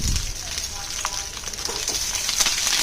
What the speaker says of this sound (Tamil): கருவேப்பிலையை எண்ணெயிலேயே போட்டு நல்லா வதக்கி எடுத்து வச்சுக்கோங்க